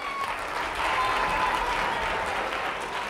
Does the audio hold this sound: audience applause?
yes